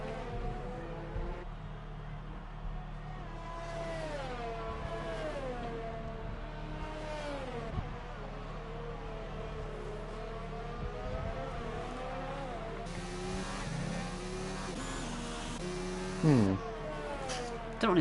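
Formula 1 race cars in the F1 2019 video game at Bahrain, high-pitched engine whines rising and falling as cars pass, steady and moderately loud, with commentators talking over them throughout.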